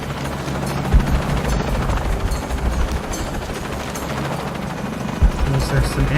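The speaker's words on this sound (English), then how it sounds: "I'm in a chopper." A helicopter in the video game Shadow of the Tomb Raider thrums with a dense, steady rotor roar that is loud and constant throughout. Brief low thumps are heard, and a voice talks over it.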